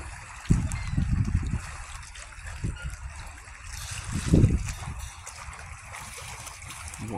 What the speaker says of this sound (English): Water sounds cool